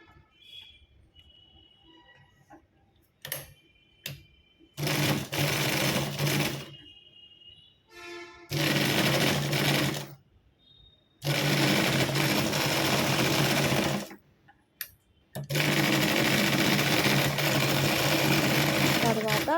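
A sewing machine stitches thread hangings onto a blouse cloth in several bursts of rapid whirring, separated by pauses with faint talk in between.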